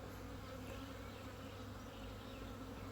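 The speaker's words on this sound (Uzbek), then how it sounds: "Arilarimiz juda yaxshi uchyapti." Steady, dense buzzing of many honeybees in flight, close and continuous throughout, with no talking.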